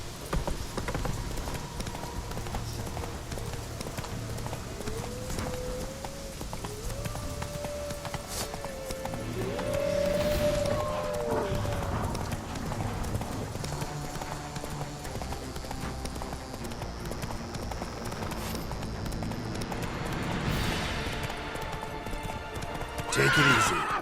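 A horse gallops in The Witcher 3, steady clip-clop hoofbeats running throughout, with several loud neighs and whinnies breaking over them amid game ambience.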